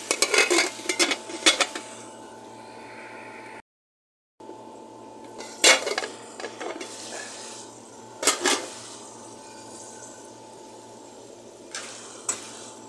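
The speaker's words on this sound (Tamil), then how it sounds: "கொஞ்சம் மூடி வைக்கலாம்" A metal lid clanks onto a pot of simmering fish curry in a few sharp, close knocks and rattles, spaced apart, with a quiet background hiss between them.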